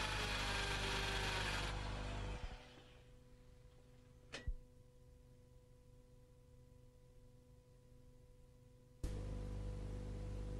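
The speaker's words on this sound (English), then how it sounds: "Drill and plug." A power drill bores into a wall for wall plugs during a plumbing tap installation, running loud for about two seconds before winding down. A sharp knock follows, then quiet, and the drill starts again near the end.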